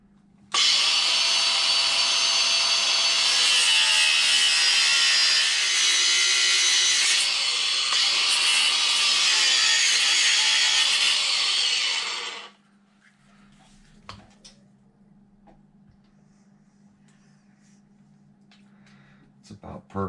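Power saw cutting through a plastic RC monster truck bumper on a Tekno MT-410, a loud steady buzzing grind for about twelve seconds that stops abruptly, followed by quiet handling clicks.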